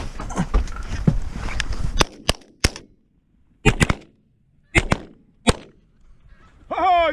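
Loud, sharp shotgun blasts ring out while goose hunting on Prince Edward Island, several spaced reports with echoing tails, the first amid a noisy flurry, and geese honk briefly near the end.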